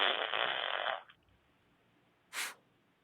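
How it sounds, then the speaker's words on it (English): A fart, a loud, buzzy burst lasting about a second, followed by quiet and then a short breathy puff, heard up close with no talking over it. "Do you think that the fart was real?"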